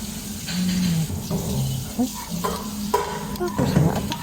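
Food sizzles in a hot frying pan, with pine nuts among what is being cooked, while a utensil stirs and scrapes in irregular strokes; a voice speaks briefly in the background.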